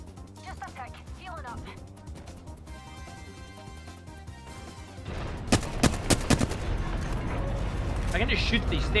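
Gunfire in the video game Apex Legends, a cluster of sharp rapid shots rising out of busy game sounds midway, with a player talking throughout.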